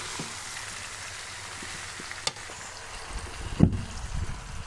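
Elephant apple (chalta) pickle is flipped and stirred in a pan over a low, steady frying hiss, with a soft tap and a heavier thud and scrape near the end. Nobody speaks.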